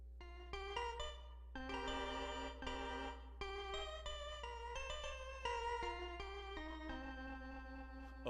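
A sequence of bright synthesized bell tones from the Vintage Fire VST plugin, played one after another, ringing and overlapping in a steady melodic pattern, with no voices.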